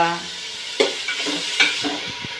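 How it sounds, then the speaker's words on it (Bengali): A spoon stirs ginger garlic paste frying in a pan, giving a few distinct scraping strokes over a soft, steady sizzle, close by with no talking. "একটু নেড়ে চেড়ে ভেজে নেব"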